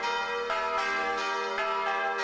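Church bells ring continuously in Slovenia, several bells of different pitch overlapping in a dense, sustained peal with repeated strikes and no voices.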